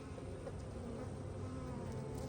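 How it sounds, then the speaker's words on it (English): A steady, dense drone of many bees buzzing close by at the front of a hive box, a continuous hum that holds even throughout with no pauses. "These bees are doing a waggle dance on the front of this box."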